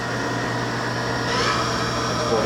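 Spindle of a Haas VF2 vertical machining center runs steadily at 3,500 RPM, a continuous close mechanical whine and hum with a slight rise partway through, loud and unbroken, with no talk.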